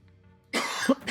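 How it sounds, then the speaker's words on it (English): A single close, sharp cough bursts out after a moment of quiet, loud and raspy with a brief second push at its end. "I'm coughing in your ears."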